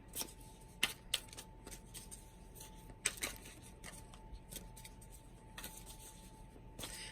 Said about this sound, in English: I'm shuffling our oracle cards.